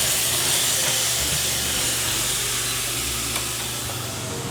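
Chicken skin fries in a pan over medium-low heat for a Bacolod-style chicken inasal, giving a loud, continuous, dense sizzle and hiss that holds steady throughout, with no talking.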